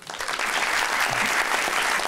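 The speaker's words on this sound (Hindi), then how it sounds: "तालियां" A studio audience at a television comedy talk show breaks into steady applause, a brief burst of close, dense clapping that rises quickly and holds evenly.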